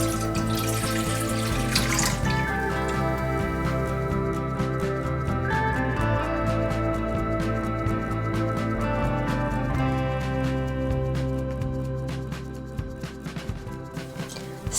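Water pouring from a tap into a cooking pot as agar powder goes in for Japanese wagashi jelly, a steady close splashing stream that continues throughout and thins slightly near the end, with no talking.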